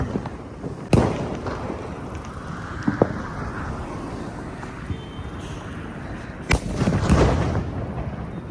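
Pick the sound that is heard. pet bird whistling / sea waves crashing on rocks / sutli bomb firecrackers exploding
sutli bomb firecrackers exploding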